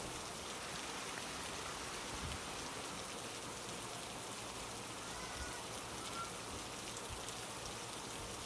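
Heavy rain pours steadily throughout, a dense continuous hiss of drops on surfaces with no voices.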